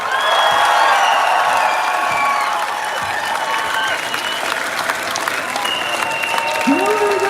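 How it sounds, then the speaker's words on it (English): A crowd at an outdoor Fridays for Future climate rally in Aachen claps loudly and steadily for several seconds, with scattered cheers mixed into the continuous applause. "So, a loud applause for Ruslana from the Ukraine!"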